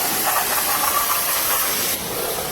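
A pressure washer blasts a wooden surface with a loud, steady broadband hiss of spray close by, the engine droning underneath, the tone shifting slightly near the end.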